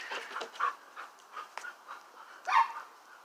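A dog indoors giving short, soft barks and woofs mixed with panting and a whimper, spaced irregularly at moderate distance with no talk over it.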